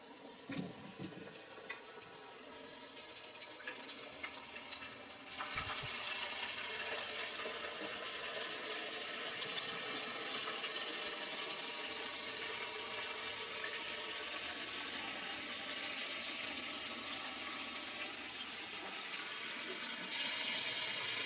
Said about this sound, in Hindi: क्रिस्पी विंग्स को फ्राई करने के लिए ऑयल को गर्म कर लिया है। अब इसमें ये विंग्स डालते जाएंगे।